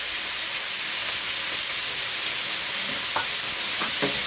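Iberian pork secreto hitting a hot paella pan, a steady close sizzle with a few sharper pops and crackles near the end, no voices.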